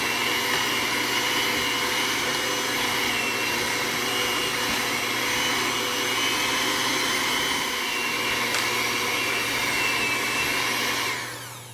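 Electric hand mixer creaming butter and sugar for chocolate chip bacon cookie dough, a steady loud whirring drone running nearly twelve seconds without pause before cutting off at the end.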